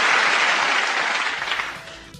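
A crowd cheering and clapping in a brief burst of dense, hissing applause that fades away over about two seconds.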